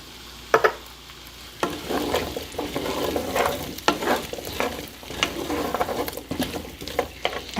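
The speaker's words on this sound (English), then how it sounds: "Add my little splash of white wine." A splash of white wine hitting a hot pan on medium-high heat with butternut squash sauce ingredients, sizzling steadily while a utensil stirs and scrapes with irregular clicks, close and moderately loud.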